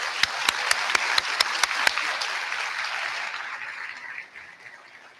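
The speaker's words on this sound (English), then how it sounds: "Please join me in once again a round of applause for Mr." A high school graduation audience applauds the band director and the band, a dense, steady wash of clapping with a few sharp nearby claps up front, fading gradually toward the end.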